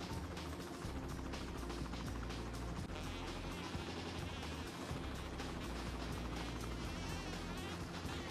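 A helicopter in Cities: Skylines whirs steadily with a dense, mechanical thrum that stays constant and fairly faint throughout, with no talking.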